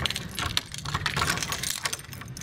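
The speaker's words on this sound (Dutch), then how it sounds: "als ik even die sleutel kan vinden" Keys jangling while someone searches for a door key at a horse stable, a quiet continuous metallic rattle with small clinks for a couple of seconds, no talk.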